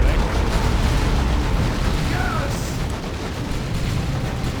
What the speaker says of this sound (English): That was also a grenade from Kane.